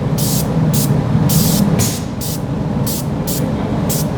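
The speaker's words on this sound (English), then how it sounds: "We're going to spray in short bursts so we don't use excessive product." A spray gun applies Mopar undercoating in short, repeated bursts, each hiss starting and stopping sharply over a steady background hum, roughly eight bursts in quick succession.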